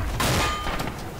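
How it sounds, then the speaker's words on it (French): Submachine gun fire from an MP40 in a Red Orchestra 2 multiplayer battle, a dense burst of shots off to one side, loud and continuous for about a second. "Moi j'entends une MP40 là sur le côté."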